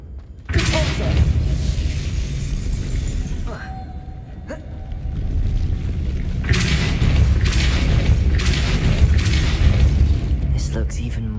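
A Repulsor spell blast in Hogwarts Legacy, with a forceful booming burst followed by sustained rumbling and scattered crashes, loud and close. Game sounds rise and fall around it.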